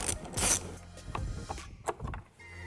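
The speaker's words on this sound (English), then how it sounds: "loosen this clamp with a 7mm socket" A 7mm socket ratchet loosens an intake tube clamp on a 2015-2023 Mustang EcoBoost, giving a few short, close metallic clicks and rubbing sounds in brief bursts.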